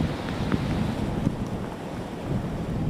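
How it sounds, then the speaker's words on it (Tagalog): Strong typhoon wind roars along the Zambales coastline during a storm surge warning, a steady, dense broadband rush with faint gusting and no voices. "Sa mga oras na ito ay napakalakas ng hangin at ulan."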